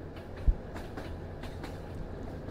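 A train on rail track, heard from inside a carriage: a steady low rumble of wheels and car noise with a single soft knock near the start, no voices.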